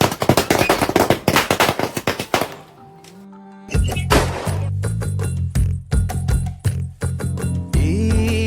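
Firecrackers burst in fast, dense volleys of sharp cracks during a Vishu festival celebration in Kerala, loud and close, broken by a short lull with a low steady tone before more rapid bursts resume.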